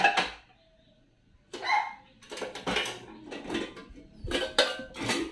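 Metal cooking pots clank and rattle in several short bursts as a washed pot is handled and set down in its place, close by, with pauses between.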